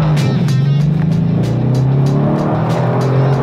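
A Mercedes C63 driven hard on a race lap, engine roaring loud and steady close up with repeated sharp shift or tire bursts, no talking.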